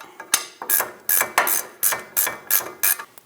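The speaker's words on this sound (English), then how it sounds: "Snug down the top ball joint nut." A ratchet snugging down the upper ball joint nut on a Chevrolet Express front suspension, giving a run of about eight sharp, evenly spaced clicking strokes up close, with no voices.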